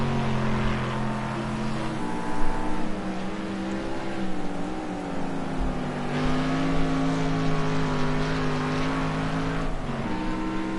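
GT race cars lapping the Brands Hatch GP circuit in the British GT championship, engines droning loudly and continuously with shifting pitch as they run close together, one car slipstreaming another.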